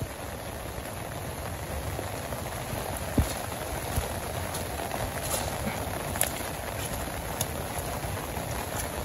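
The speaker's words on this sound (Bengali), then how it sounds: "ওই দিক দিয়ে মোটামুটি ভালো বৃষ্টি নামছে।" Steady rain falls over a rural Bangladeshi village in a continuous soft wash, with occasional faint drips and knocks standing out.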